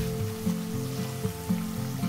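Risoles, spring-roll-like pastries with a flexible wrapper, sizzling steadily in hot oil, a soft continuous crackle with gentle rhythmic bubbling bursts about once a second.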